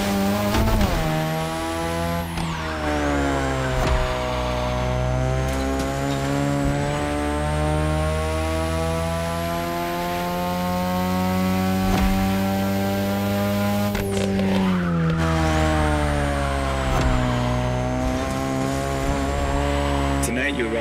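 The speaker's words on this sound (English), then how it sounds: "Your ride is a 3rd Gen 2002 Mazda RX-7. Lightweight, compact, a sick rotary engine, and one hell of a look." A third-generation 2002 Mazda RX-7 with a rotary engine races in The Crew Motorfest video game. The engine sends up a loud, buzzing, high-revving whine that climbs steadily, breaks at a gear change, then rises again, while a voice talks over it.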